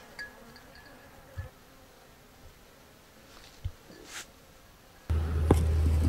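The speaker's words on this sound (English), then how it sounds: "So many bees." A swarm of Japanese honey bees (Apis cerana japonica) buzzes as a soft, steady hum, with a few nearby bees droning past, before a louder burst of close buzzing and handling noise near the end.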